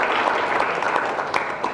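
An audience claps steadily through a morning book club gathering, dense and sustained, with a few sharper hand-claps standing out near the end.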